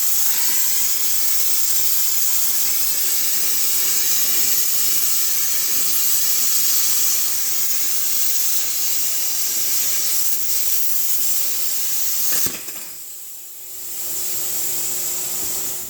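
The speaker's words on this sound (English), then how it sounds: "I'm going to dig out the plasma cutter now and cut that out" A plasma cutter slicing through trailer wheel steel gives a steady, loud, bright hiss that holds for about twelve seconds, then cuts off abruptly and resumes more quietly.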